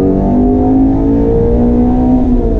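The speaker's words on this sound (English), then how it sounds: "GT350, that Voodoo engine on throttle." A 2019 Ford Shelby GT350 with the Voodoo flat-plane-crank V8 revs hard on throttle, a loud, close, sustained high-pitched engine wail that climbs slightly and holds steady with no talk over it.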